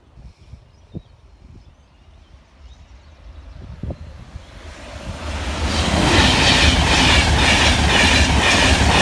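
A train passes a rural level crossing near Newark, first a distant rumble with a couple of sharp knocks, then swelling to a loud, close roar of wheels and wagons over rail joints.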